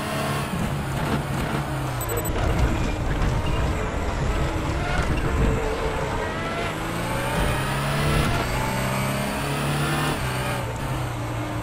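An Audi R18 TDI race car engine roars continuously at high revs through gear changes in the R3E racing game on the Nürburgring GP circuit, loud and close throughout.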